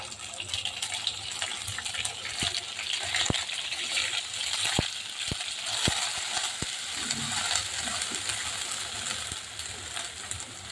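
Onion paste hisses in hot oil tempered with black cumin, cooked for a mustard-paste hilsa dish. The sizzle is a steady, loud frying hiss broken by scattered sharp pops and spatters.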